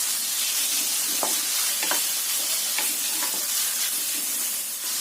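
Vegetables with carrots and mushrooms sizzle steadily in a hot pan while a utensil stirs them, giving a few soft scraping strokes over the constant frying hiss, with no talking.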